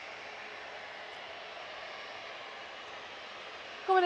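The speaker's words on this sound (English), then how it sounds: "A320, just about to touch down actually" An Airbus A320 on approach into Manchester, about to touch down, gives a steady, moderate engine whine and rushing noise that holds evenly, ending with a sudden louder burst at the very end.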